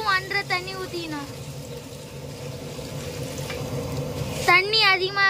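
Water and rice come to a boil with masala in a large pot of vegetable biryani cooked for an annadhanam food offering. A steady bubbling hiss runs between stretches of a voice at the start and end.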